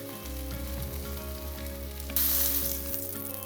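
A herb-crusted rack of lamb sears in a hot pan, sizzling loudly and steadily under a low hum, with a sharper burst of spitting hiss near the end and no voices.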